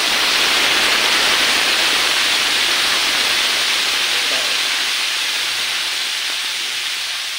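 Loud, steady hiss of steam as meat goes into a pot of boiling water with tomato sauce, a continuous broadband rush that fades slightly toward the end.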